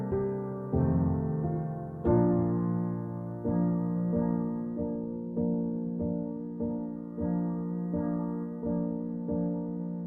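A digital piano sample library captured through room microphones only: a sustained chord with a few slow, separate piano chords and single notes struck every second or so, each ringing out with a roomy decay, with no talking.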